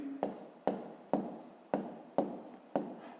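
Numbers being written by hand on paper during a fifth-grade arithmetic exercise: six evenly spaced, distinct pen or pencil strokes, close and clear, with no talking.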